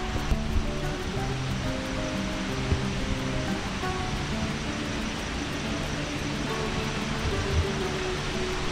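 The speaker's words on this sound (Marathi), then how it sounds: "पूर्णपणे आपण बघू शकता मित्रांनो पाणी वाहत आहे." Water flows in a steady, continuous rush near the Pandav cave in Dang, a broad even hiss with no pauses, filling the whole stretch.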